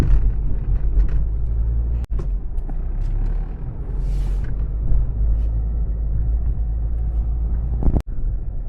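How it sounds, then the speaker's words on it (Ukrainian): A truck passes on a street, a heavy low rumble of engine and road noise holding close and steady, with a couple of sharp knocks breaking through. "Каміон хоче проїхати. Вантажівка."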